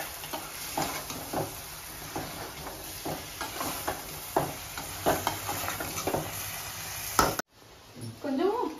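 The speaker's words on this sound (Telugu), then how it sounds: "పెరుగు వేసాను కాబట్టి ఒకసారి తిప్పుతా ఉన్నాను" Chicken fry with added curd being stirred in a pan, giving soft sizzling and repeated scraping strokes at a gentle rhythm, fairly close, with a brief cut near the end.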